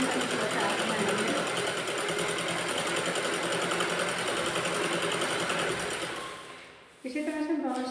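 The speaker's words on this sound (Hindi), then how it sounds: "इसी तरह से दोनों साइड का सिल लेंगे।" A sewing machine stitches net fabric for a kurti neckline with a loud, steady close-up whirring hum that fades near the end. A voice then speaks briefly over softer mechanical noise.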